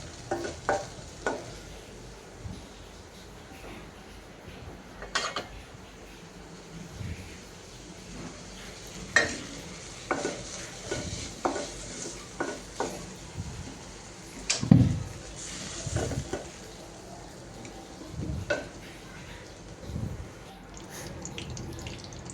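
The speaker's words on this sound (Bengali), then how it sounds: "তো এখন ভেজে নিচ্ছে এই তো বেগুনি।" Round-sliced eggplant fritters (beguni) frying in hot oil, a steady close sizzle broken by repeated scrapes and clinks of a spatula turning the slices, with no talk.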